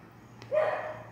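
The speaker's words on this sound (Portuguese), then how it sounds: "os cachorros estão latindo aqui" Dogs barking in a dark neighborhood during a power blackout, a single burst of barking at moderate distance over a steady low hum, with no talk.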